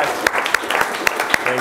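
Brief applause from a developer meetup audience, a short wash of clapping with a few sharp, distinct claps and a cheer-like voice over it.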